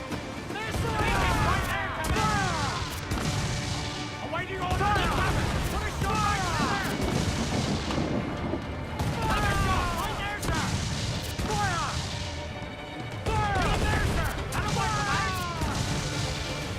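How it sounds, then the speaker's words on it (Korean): Booming ship cannon fire and crashes repeat through a busy naval battle in Assassin's Creed IV: Black Flag, over continuous game effects and background sound. "불대포 쏘는데 쟤들?"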